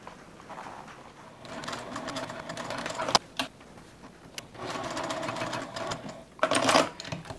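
A sewing machine stitches bucket hat fabric along a seam at a 3.0 mm stitch length, running in several steady bursts of close mechanical whirring separated by short pauses and clicks.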